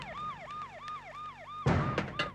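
An ambulance siren wails in repeated rising-and-falling sweeps as the vehicle arrives, loud and steady, with a burst of louder noisy clatter breaking in near the end.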